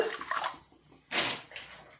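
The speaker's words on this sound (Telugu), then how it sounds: "ఇనుము బాండలు పెట్టుకున్నాము చూడండి ఒక ఒక గ్లాస్ నీళ్ళు పోసుకుంటామ్మా" A glass of water is poured into an iron pan on the stove, giving two short splashing gushes with a gap between them, close and fairly soft.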